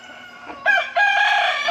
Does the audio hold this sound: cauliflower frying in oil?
no